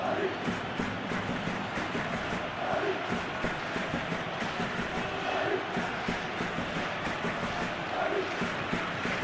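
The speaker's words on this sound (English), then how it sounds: "The crowd are calling for this to be put to bed." Stadium crowd in the PES 2021 football video game during a Master League match, a loud continuous roar of many voices with rhythmic chanting that swells every couple of seconds.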